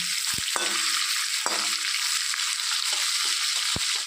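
Ginger garlic paste fries in a pan for goat sustaa, giving a steady loud sizzle with a few sharp spoon-against-pan knocks as it is stirred.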